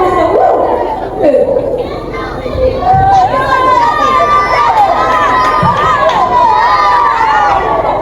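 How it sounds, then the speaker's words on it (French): A school audience at a mock trial in a French collège cheers and whoops as the jurors enter, a loud, sustained crowd roar with children's shouts and excited voices throughout. "Est-ce que vous pouvez royalement les applaudir?"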